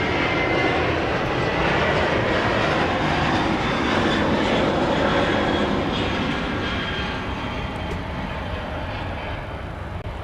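A Sun Country airliner at LAX produces a loud, steady broadband jet roar that holds throughout and eases only slightly toward the end, without any talk.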